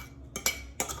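A metal utensil stirs melted cheese and spice in a dish, making a few quick clinks and scrapes in just over a second, close but fairly soft against a low steady background hum.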